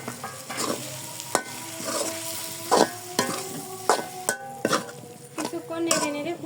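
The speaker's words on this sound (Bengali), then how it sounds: "মশলা ভালো করে কষিয়ে নিয়েছি এখন ম্যাশ করা আলু দিয়ে দিব" Spices and mashed potato are sautéed in a pan, with a soft sizzle under repeated clinking, scraping stirs of a metal spoon against the pan at an irregular pace.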